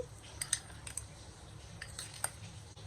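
Dried fruit being stirred into all-purpose flour in a bowl, with faint scattered clinks and scrapes of a utensil against the bowl over a quiet background.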